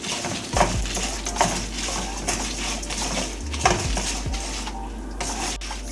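Red chili and garlic stirred in a pan over a low flame, a utensil scraping and clinking against the metal at an irregular pace, with a soft sizzle and a steady low hum underneath, no voices.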